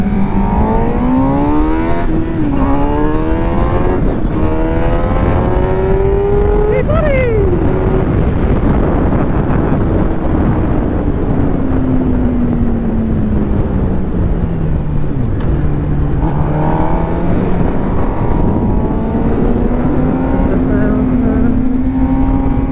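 Motorcycle riding on the road, engine note rising and falling through gear changes under constant wind rush, close and loud throughout.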